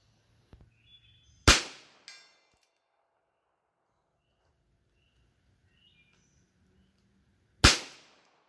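Two sharp, loud cracks from an H&R 949 Forty Niner .22lr revolver, about six seconds apart, each with a quick decaying tail; a small click and a faint smaller knock follow the first shot.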